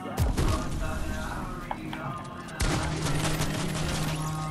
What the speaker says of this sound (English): He tried to snipe me in the brain, but he missed.